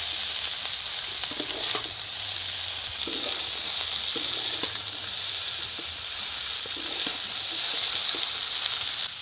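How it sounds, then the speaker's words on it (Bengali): Potato and broccoli fry in a pan with a steady, loud, continuous sizzle throughout, broken by a few faint stirring knocks and with no voices. "দেখুন কত সুন্দর ভাজা হয়ে গেছে আলু ব্রকলি।"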